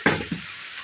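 Chicken frying in oil in a pan for gongura chicken curry gives a short close sizzle and bubbling burst at the start, fading quickly into a soft steady hiss.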